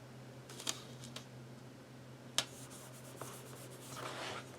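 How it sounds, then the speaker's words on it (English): Paper washi tape is peeled up and a sticker is pressed onto a planner page, giving quiet close crinkles, a couple of sharp ticks and a soft rustle near the end over a low steady hum. "So let me lift up this washi tape. put this sticker down."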